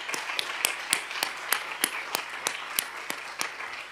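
Conference audience applause: sharp, evenly spaced claps ring out at a steady rhythm over a quiet room, moderately close and fairly faint overall.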